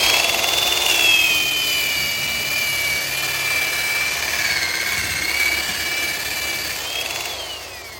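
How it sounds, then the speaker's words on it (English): Budget buffer with a worn pad polishing a car headlight, a loud steady high-pitched motor whine that dips and rises slightly in pitch as pressure changes, continuous for eight seconds with no talking. "we're going to hit it right away with the buffer"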